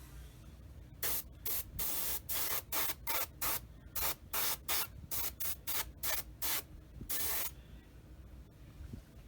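Airbrush spraying thinned paint onto a Tamiya 1/35 Sdkfz 250/3 Greif scale model, heard as about twenty short hissing bursts in a quick, uneven rhythm, close and fairly loud, followed by quiet.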